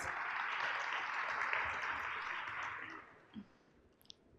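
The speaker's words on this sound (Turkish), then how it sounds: "alkışlarla Coca-Cola içecek Türkiye Satış Direktörü Sayın Selçuk Onat'ı sahneye davet ediyoruz" Audience applause at a business congress as a Coca-Cola İçecek Türkiye sales director is welcomed onto the stage: a broad, steady wash of clapping that fades out after about three seconds, leaving a quiet room with a few faint knocks.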